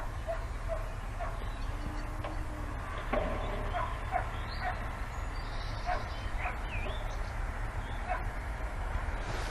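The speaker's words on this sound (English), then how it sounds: "Now it's come to a sudden stop, and there's just a dog barks." A dog barks a few times at a distance, the short calls scattered over a steady low rumble of outdoor background noise.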